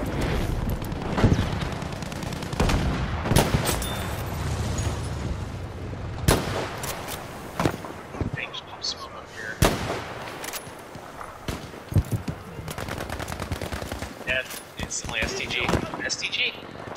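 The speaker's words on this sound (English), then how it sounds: "It's a jungle carbine guy and a fucking machine gun." Jungle carbine and machine gun fire in an online shooter, sharp loud shots and bursts scattered irregularly over a noisy battlefield bed, with a voice talking between them.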